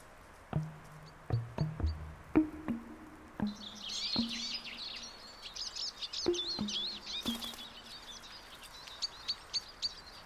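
Alpine accentors, siskins and blackbirds feeding on rowan berries in a snowy, deserted alpine hamlet give thin high chirps and twittering calls, punctuated by sharp knocking and pecking taps, fairly close and otherwise quiet.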